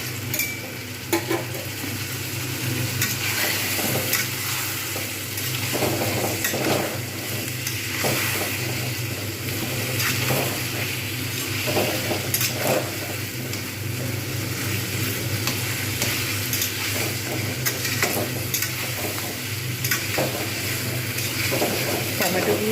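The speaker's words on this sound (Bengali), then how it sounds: "যে মশলাটা লেগেছিল জাস্ট সেইটাই একটু ভালো করে কষে নেব" Spice paste is fried with a splash of water in a pan for a fish curry with flat beans and potatoes, giving a loud continuous sizzle with rhythmic scraping from a spatula throughout.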